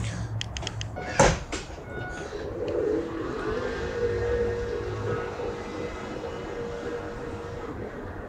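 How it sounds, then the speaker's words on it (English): A power sliding door on a 2023 Mercedes-Benz Sprinter cargo van opens with a sharp clunk of the latch, then a steady motorized whir as the door slides along its track. "Push a button, the door can open and close."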